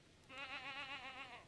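A goat in the farming game Stardew Valley gives a single wavering bleat, clear and moderately loud, with nothing else audible.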